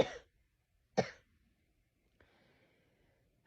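Two sharp, isolated coughs from one person, about a second apart, close and fairly quiet against near silence, followed by a faint breathy exhale.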